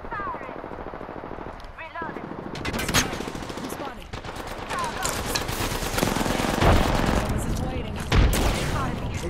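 Rapid bursts of automatic gunfire in the shooter game Apex Legends, loud and dense with sharp cracks and rattling volleys, mixed with excited players talking over the shooting.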